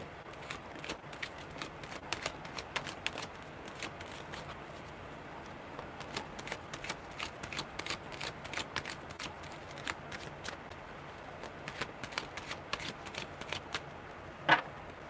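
Rapid crisp riffling of tarot cards, shuffled repeatedly in quick bursts close by, with no talking.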